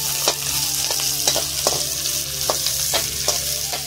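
Onion and green chilli fry in a pan for poha, with a loud, continuous sizzle and about ten rhythmic scrapes of a spatula stirring, close up and without talking.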